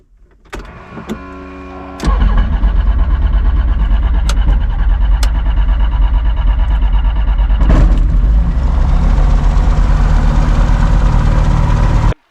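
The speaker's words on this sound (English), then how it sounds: "We run the engines for 5 seconds." A Cavalon autogyro engine cranks with a few sharp clicks, catches and roars into a steady, loud, close running drone that holds for about ten seconds, then cuts off abruptly.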